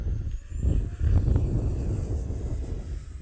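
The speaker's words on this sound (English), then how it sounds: "I don't think I've ever flown this little plane in this much wind before." Small Arrows F-86 Sabre RC model jet flying in strong wind, a steady high whine running throughout over heavy low wind rumble and gusting buffet on the microphone, fairly close.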